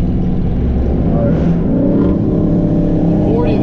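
A Dodge Charger accelerating hard for a street race, with a loud, close engine roar whose pitch climbs and shifts as it revs, and voices may be faintly present.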